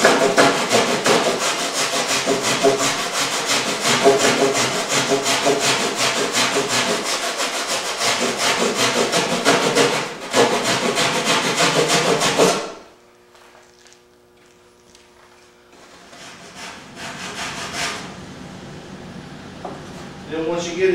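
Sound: rasp filing wood to fit a mannequin nose

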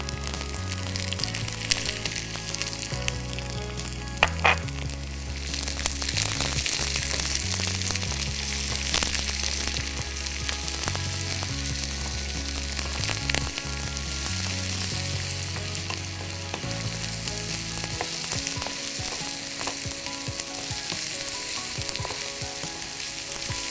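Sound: chopped shallots frying and sizzling in a pan

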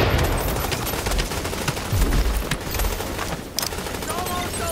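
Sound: gunfire in a video game

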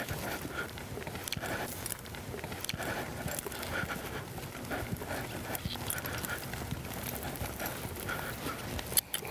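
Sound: horses' hooves during Roman riding

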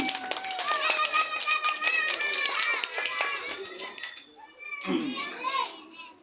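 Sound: children clapping

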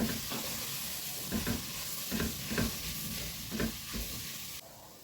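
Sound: stirring and frying in a pan

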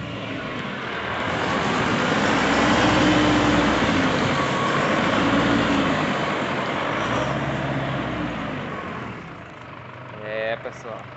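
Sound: Chevrolet S10 diesel 4x4 pickup (MWM 2.8) driving off-road

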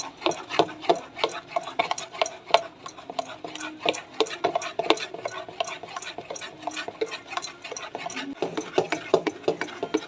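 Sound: whisking dosa batter in a pot with a spoon

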